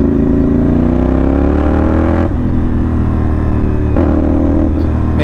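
A CFMoto NK450 motorcycle with an SC Project copy exhaust roars loud and close, its engine climbing in pitch with two quick blips of the throttle.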